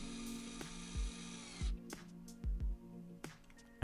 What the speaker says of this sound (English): driving a screw into a pre-made hole